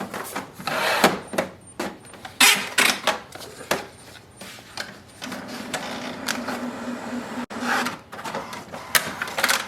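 An HP DeskJet 2827e printer loads paper and prints, giving a series of mechanical clicks, whirs and sliding clunks in irregular bursts, then a steadier motor hum as the carriage runs, close and fairly loud.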